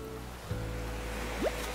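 Gentle ocean surf washes along the beach in Animal Crossing: New Horizons, a soft continuous hiss beneath quiet game tones, with a small rising sound effect near the end.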